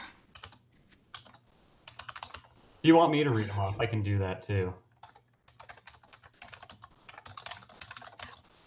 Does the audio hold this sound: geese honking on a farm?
no